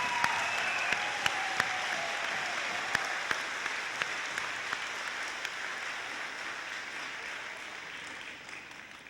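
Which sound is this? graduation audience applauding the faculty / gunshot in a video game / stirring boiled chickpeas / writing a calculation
graduation audience applauding the faculty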